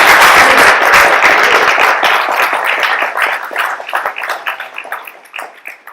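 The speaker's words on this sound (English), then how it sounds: "Big round of applause for Matt." A small audience at a reverse engineering club meeting claps for a speaker. The applause starts dense and fairly loud, then thins into scattered individual claps as it tapers off over six seconds.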